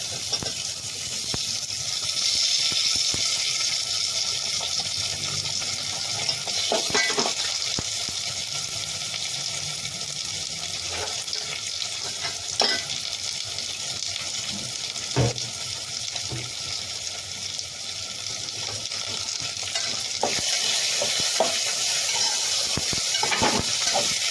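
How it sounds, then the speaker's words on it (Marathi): Diced potatoes sautéing in a pan for masala khichdi give a steady, soft frying sizzle with occasional spoon scrapes, close and continuous without talk. "हे छान परतून घ्यायचे।"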